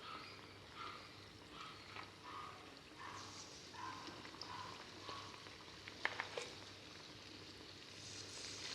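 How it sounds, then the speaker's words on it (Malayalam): Spoonfuls of snack batter frying in hot oil give a soft, steady bubbling sizzle with faint clinks of a spoon, quiet and close, with no talking. "എന്നിട്ട് പതുക്കെ ഫ്രൈ ചെയ്തെടുക്കാം"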